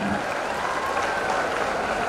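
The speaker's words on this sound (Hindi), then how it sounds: "जोरदार तालियों से स्वागत कीजिए उनका" Enthusiastic applause from a crowd at a public event greeting a central government minister, steady dense clapping that fills the whole short stretch without pause.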